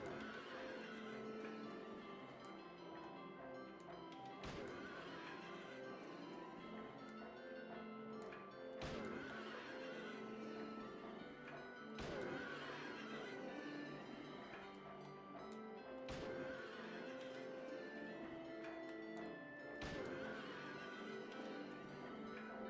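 Horses whinny in the video game Silent Hill 3 amid a dense, eerie ambient soundscape, with periodic sharp thuds and faint neighing repeating over a steady murky drone, quiet overall.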